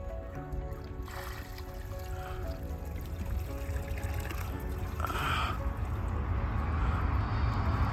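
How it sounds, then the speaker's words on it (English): Water churns and sloshes in a koi pond as it is stirred, a steady close washing sound that grows slightly stronger, with faint outdoor background and no talking. "Mr. Kobayashi is moving the water and giving the fish the oxygen."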